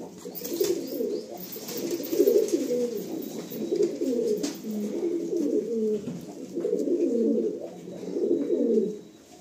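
Pigeons with clipped wings, kept grounded since they were young, coo in repeated rolling phrases up close, the low burbling calls rising and falling steadily with no talk.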